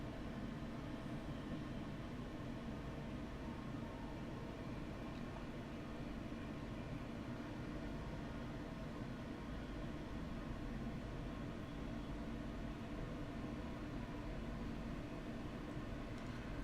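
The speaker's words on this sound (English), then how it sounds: "As you can probably hear, the Mk4 driving van trailer doesn't really have any engine sounds." A Mk4 Driving Van Trailer leads a train from Peterborough to Kings Cross in Train Simulator. It gives a steady, continuous rolling roar and rumble with no distinct engine note, unbroken for the whole stretch and with no voices.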